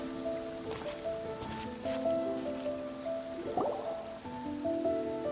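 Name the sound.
rain falling in a courtyard in the video game Genshin Impact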